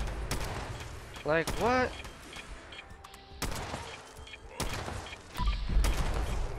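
Quad explosive pipe revolver firing in Fallout 76 against super mutants, a few sharp gunshots with ringing tails amid game noise, a voice briefly speaking over it.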